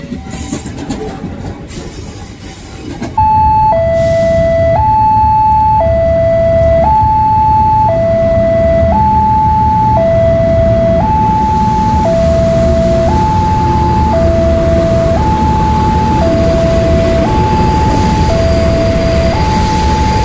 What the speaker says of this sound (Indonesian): Wih, ada KRL.